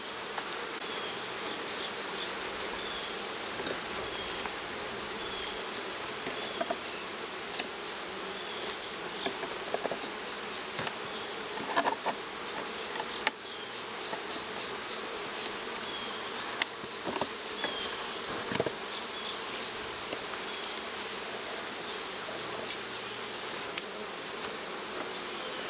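Honey bees buzz around an opened hive during fall hive work, a dense continuous hum of many wings close by, with occasional soft clicks and knocks from the hive boxes.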